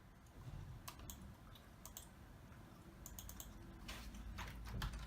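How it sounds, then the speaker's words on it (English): Keyboard typing for a Facebook search on a Samsung Galaxy Note 8 DeX Station setup: quiet, rapid clicking keystrokes in uneven bursts over a low background hum, with no talking. "Typing in, what I want to look for on Facebook."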